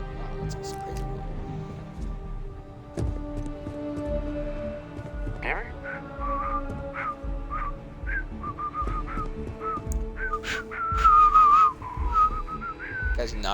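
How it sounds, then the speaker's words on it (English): A character in the video game Starfield whistles a wobbly, off-key tune in short uneven phrases, mid-loud over low game ambience and rumble, with talk early on. "Guy's not really good at whistling."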